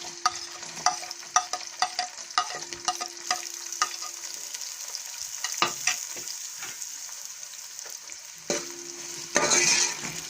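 Onions go into a pan of frying garam masala and sizzle steadily, with frequent sharp clinks and scrapes of a stirring spoon against the pan at close range and no voices.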